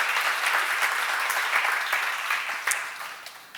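A church congregation at a seminar claps loudly and steadily, a dense burst of applause that slowly fades toward the end.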